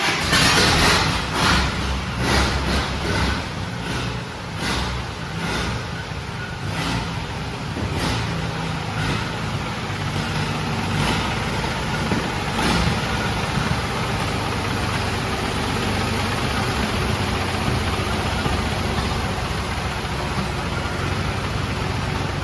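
Vintage collector car engine runs loud and close, with a few rhythmic pulses early on before settling into a steady, rough, throbbing idle that carries on to the end.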